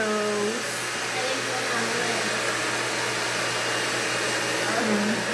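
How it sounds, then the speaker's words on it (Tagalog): A hair blow dryer runs steadily and loudly in a salon, a constant close whooshing roar with faint high whine, continuing without break and no speech audible. "nag-blower kay Ate Rose"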